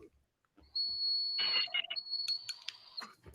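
A bong whistles through a small hole in its top, giving a sustained high-pitched whistle that breaks and resumes over bubbling and short bursts of close talk.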